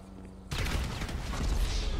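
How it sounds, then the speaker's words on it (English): Sudden burst of gunfire and explosions in the GTA Online video game, cutting in after a quiet half second and then rumbling on loud and dense to the end. "I had two explosions on my screen."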